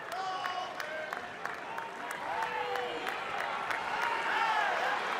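Arena crowd at an Oklahoma State at Iowa wrestling dual rallies behind wrestler Seabrecht late in the match, a steady roar of cheering and applause with whistles and shouts that swells toward the end.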